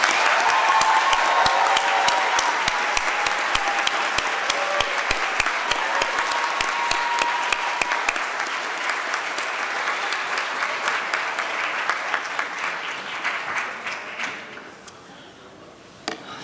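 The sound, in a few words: audience applause for Presidential Scholars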